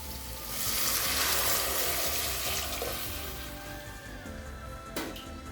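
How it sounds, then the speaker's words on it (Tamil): Water poured into a hot pressure-cooker pot of sautéed spices for paneer pulao sets off a loud, steady sizzling hiss that fades over several seconds, with one brief clatter near the end and no talking. "4 கப் தண்ணி சேர்த்துக்கலாங்க."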